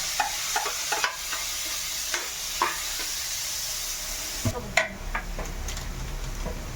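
Tomatoes tossed into sautéing ampalaya (bitter gourd) in a pan: a steady oily sizzle broken by scattered clicks and scraping stirs, with a louder clatter and shift in texture partway through, and no one talking.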